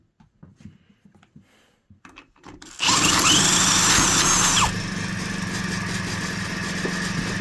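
A barn-find Magnum engine starts up: a few faint clicks and pulls, then it catches and roars loudly for a couple of seconds before settling into a steady, buzzing run.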